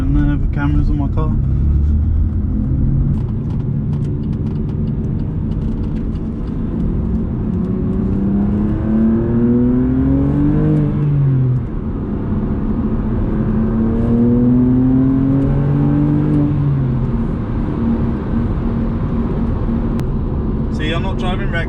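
BMW M2 Competition (2018) accelerating briskly from inside the cabin, a steady engine drone rising and falling in pitch through gear changes, loud and continuous with road noise.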